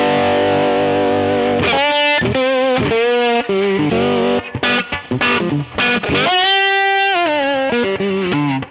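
An electric guitar in open E tuning is played, with distorted, effect-laden notes bending and gliding in short phrases, loud and close with no voice.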